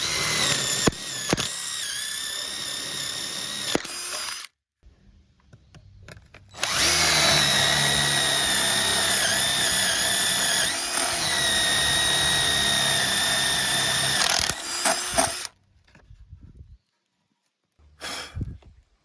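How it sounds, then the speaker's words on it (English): A power drill whines loudly through two long bursts of boring 1/2-inch holes through wood boards, separated by a pause, with a short burst near the end; no talking. "we're going to drill a 1/2-inch diameter hole through each one of these"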